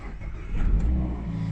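A Mazda MX-5 1.5 SKYACTIV-G engine, started by push button, cranks and catches, rising into a steady idle rumble close by, with no talking.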